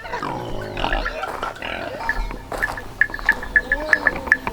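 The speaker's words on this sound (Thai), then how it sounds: "หมูเรียงใต้ถุนบ้านเป็นไง" Pigs penned in a row beneath a raised village house grunt and squeal close by, with a run of short, rhythmic high squeals building toward the end over a rough outdoor background.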